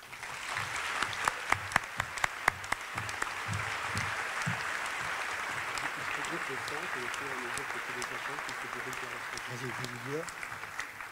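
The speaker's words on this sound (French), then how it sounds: "je propose qu'on leur offre quelques applaudissements" A crowd applauds the staff at a graduation ceremony: sustained, fairly even clapping with a few sharp, close claps standing out early. Voices talk and call out underneath.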